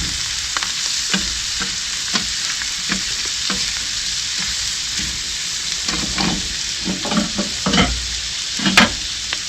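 Garlic sizzling in oil on a Hunsaker griddle, a constant close hiss broken by scraping utensil strokes that grow busier toward the end.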